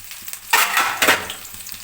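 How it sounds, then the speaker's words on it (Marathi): Finely chopped green chillies frying in a pan for sabudana khichdi, a close, loud sizzle that flares in two bursts as the pieces are stirred, alone without speech. "मिरची थोडीशी फ्राय होऊन द्यायची।"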